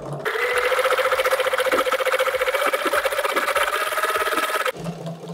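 A sewing machine quilts a diamond grid, running fast and loud at a steady stitching rate for several seconds, then stopping abruptly near the end.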